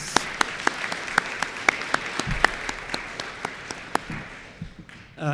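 Applause at an eighth grade promotion ceremony at Sunnyslope School: sparse, distinct claps in a quiet room, a few hands clapping rhythmically that fade out near the end.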